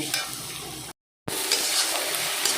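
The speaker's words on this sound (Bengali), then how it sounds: "দেখো, খুব সুন্দর করে ভাজা হয়ে গেছে।" Food for tadka dal sizzles and crackles loudly in a hot pan, broken by a brief moment of silence before the frying resumes.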